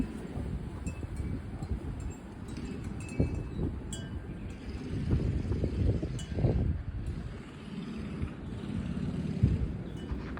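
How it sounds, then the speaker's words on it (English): Gusty wind in stormy weather on Good Friday after heavy rain, a steady low rumble of buffeting and microphone wind noise that swells and fades across the whole stretch, with faint clinks now and then. "And it's windy again."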